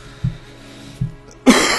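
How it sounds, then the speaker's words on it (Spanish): Two short, sharp coughs about a second apart come from a DayZ player's open microphone, followed by a louder burst of breathy noise; no one speaks. "qué susto me pegaste con la tos"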